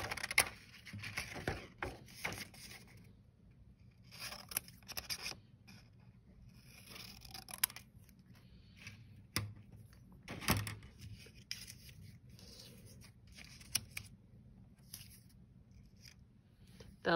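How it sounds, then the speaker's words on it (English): Scissors cut black paper up close, giving a series of irregular crisp snips and rustling scrapes with quiet pauses between. "I'm going to cut my windows"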